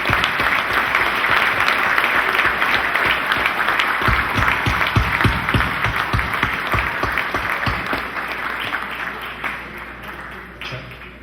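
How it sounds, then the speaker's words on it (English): Audience at a ceremony honoring Hispanic contractors gives a big round of applause, dense sustained clapping from a crowd that thins into scattered individual claps before fading out. "Let's give them a big round of applause."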